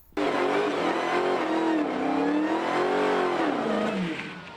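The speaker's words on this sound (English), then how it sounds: "American Muscle and American Classics were burning rubber on the streets of Orange" American muscle and classic cars rev hard while burning rubber on the streets of Orange, a loud, sustained engine roar with rising and falling pitch and squealing tires, close and continuous.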